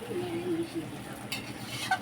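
A spoon stirs and mixes fried rice with ghee in a pan, soft scraping over a faint low sizzle with a couple of light metallic taps near the end, quiet and close.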